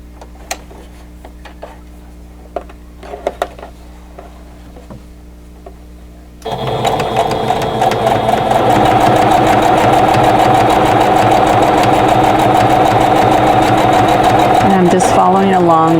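A sewing machine stitches steadily along a drawn line while piecing quilt half square triangles. A continuous loud mechanical whir starts after some quiet handling sounds, with a voice talking under it.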